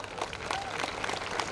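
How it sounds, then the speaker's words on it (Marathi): Audience applause after a Marathi stage dance performance, a short burst of scattered clapping from a crowd, moderate in loudness and fairly even across its length. "जोरदार टाळ्या होऊन जाऊ द्या"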